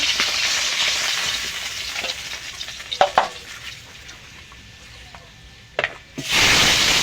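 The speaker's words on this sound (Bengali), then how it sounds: "উল্টো পাল্টে মাছগুলো ভেজে নিয়েছি" Fish fry in oil in a pan, a soft continuous sizzle broken by a few sharp clatters and scraping turns, with the sizzle swelling louder at the end.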